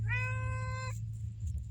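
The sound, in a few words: cat meowing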